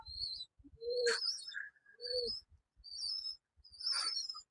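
Rajshahi Giribaj pigeons, a black bird among them, cooing in five short, soft bursts with brief pauses, close by and without talk.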